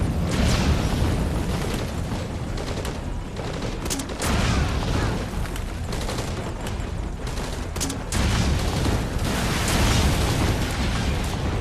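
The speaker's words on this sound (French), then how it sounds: "il se prend des explosions, le pauvre." Explosions tear through a Metal Gear Solid V: Ground Zeroes scene in a dense, loud, nonstop barrage of blasts and bursts, with a few stronger booms standing out amid continuous crackling rumble.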